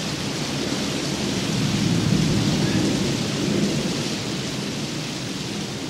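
Heavy tropical monsoon downpour in Indonesia, a dense, steady roar of rain with deep rolling thunder swelling in the middle, loud and continuous with no voices.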